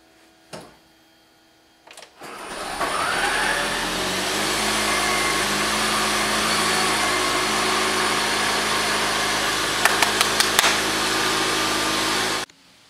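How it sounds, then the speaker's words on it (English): A 2009 Ford Escape Hybrid engine starts up after its dead high-voltage battery has been recharged, a short click and crank giving way to a steady, loud mid-pitched running hum that holds for about ten seconds, with a few faint ticks near the end before it cuts off. "the chief engineering dog next to me approves the start of the engine, right Brandy?"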